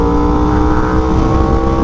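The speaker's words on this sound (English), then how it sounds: "it's rev matching for me." A Yamaha R1M sport motorcycle engine running loud and close, steady revving with a brief smooth blip as the quick shifter rev-matches during a clutchless gear change.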